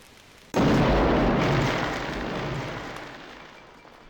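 An in-game explosion in Tex Murphy: The Pandora Directive bursts in with a sudden loud boom, then a broad roaring rumble slowly decays over several seconds, heard alone.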